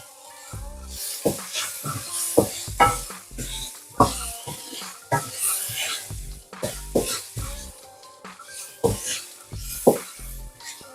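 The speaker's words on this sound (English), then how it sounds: "just cook the onion for 1 or 2 minutes." Chopped onion frying in a pan, a soft sizzle broken by repeated scraping and stirring strokes of a utensil against the pan, close and uneven in rhythm.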